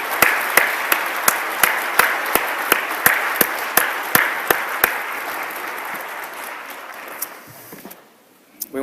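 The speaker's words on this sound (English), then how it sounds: "Let's give another round of applause to our master's students" Applause for master's graduates at a College of Science fall pre-commencement ceremony: sharp, rhythmic claps ring out in a steady beat and fade, leaving a near-silent hall.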